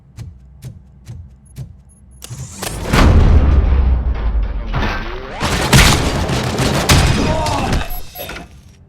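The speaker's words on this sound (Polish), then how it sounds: "Strzały w bliskiej odległości." Close-range gunfire in RoboCop Rogue City, a few sharp isolated clicks and shots followed by heavy booming bursts and rattling impacts that swell loud, then fade into a lingering tail.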